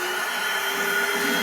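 A shop vacuum roars steadily at close range while sucking water out of a toilet tank, a constant whirring drone with a faint gurgle toward the end.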